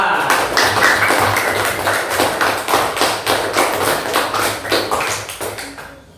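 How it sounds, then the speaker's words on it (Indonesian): Classroom of students applauding a group in a teacher's performance lesson, a loud, close, uneven patter of clapping and tapping hands that fades out near the end. "Tepuk tangan buat kelompok 2"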